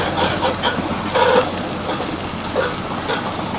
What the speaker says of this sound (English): These guys are taking their rail bikes back up.